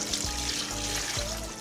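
Cooled soy sauce brine poured over crabs laid belly up in a container, a steady soft liquid splash and trickle, close and quiet, with no talking.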